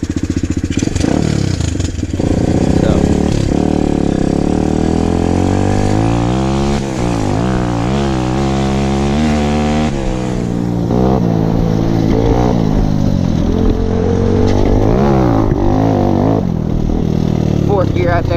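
An SSR150R motorcycle is kickstarted and its single engine catches and keeps running, loud and close with revving rises and falls, while someone talks over it.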